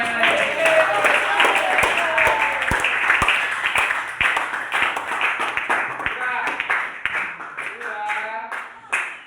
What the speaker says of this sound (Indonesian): Tepuk tangan dulu untuk kita semua yang lain.